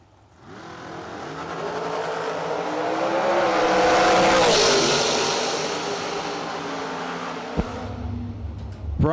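Door cars at a drag racing event roar past, engines swelling to a loud peak and fading as they run down the strip, heard from trackside with a sharp pop near the end.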